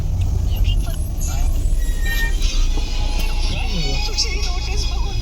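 Night traffic on the Mumbai Goa highway near Nagothane, a continuous low road rumble of cars and heavy vehicles with occasional hisses and higher engine tones, while someone talks over it.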